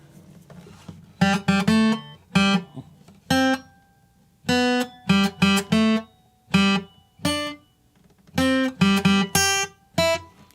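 Guitar notes and chords plucked in uneven, jerky timing, short bursts separated by irregular gaps and silences, played close and clear with no one talking.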